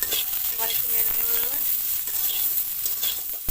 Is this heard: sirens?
no